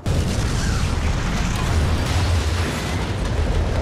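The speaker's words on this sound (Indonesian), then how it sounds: "truk itu meledak" A loud, sustained roaring blast of a truck exploding rumbles continuously, with heavy low boom and crackling debris, with no voices.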